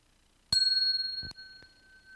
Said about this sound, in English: We've got our handbell, right?